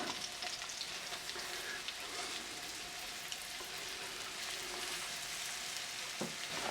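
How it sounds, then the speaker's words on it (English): Dredged chicken pieces frying in hot butter and oil, a steady dense crackling sizzle throughout with a faint popping texture, close but soft, no voices. "we're taking our chicken that we dredged and we're going to set it right in this hot butter and oil"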